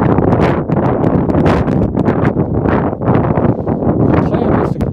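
Strong wind gusts near the snowy summit of Guadalupe Peak, a loud, continuous, buffeting roar that pounds the microphone with uneven surges and no voices.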